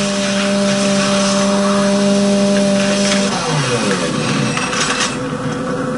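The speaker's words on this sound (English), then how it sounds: "Good thing I got the chainsaw." Chainsaw from the Doom 3 video game grinding steadily with a droning motor tone that drops in pitch partway through as combat noise continues underneath, loud and up close.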